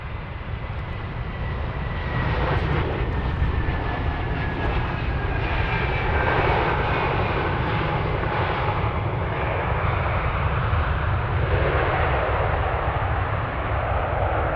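Airliner landing on runway 25R at Frankfurt Airport on a freezing winter day, a loud continuous engine roar with a slowly falling whine, steady and close throughout with no talking.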